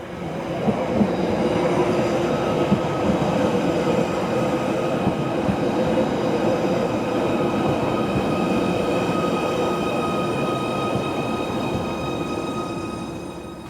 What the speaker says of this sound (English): There's a train now.